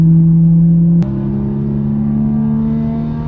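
Modified old BMW engine held high in second gear, a loud, close, sustained droning rev with a sharp click about one second in, after which the tone drops slightly and keeps roaring steadily.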